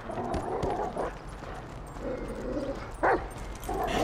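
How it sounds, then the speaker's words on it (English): A dog in GTA 5 gives several short barks and yips amid in-game rustling and movement noise, fairly close and moderately loud. "There's a good dog."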